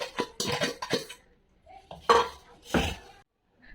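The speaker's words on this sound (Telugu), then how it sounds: "ఈ బెల్లంని ఈ మిల్క్లో వేసుకొని కలపాలి" A spoon stirring jaggery into milk in a vessel at home, giving a few short clinks and scrapes against the pot separated by quiet gaps, close and moderately loud.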